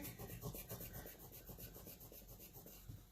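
A steady, faint scrubbing rubs rust off a steel mandala impression die, a close rasping texture that runs without pause and has no voices over it.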